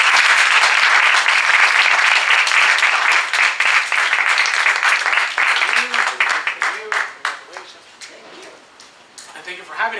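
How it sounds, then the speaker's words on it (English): A round of applause from an audience at an International Women's Day event in Weston, loud and dense at first, then thinning into scattered individual claps that trail off near the end. "Please give them a big round of applause"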